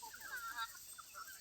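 Chickens cluck in short bursts at moderate distance, with steady background hiss, near a lime orchard where irrigation water runs to keep the birds cool.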